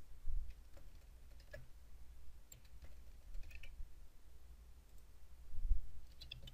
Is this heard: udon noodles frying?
no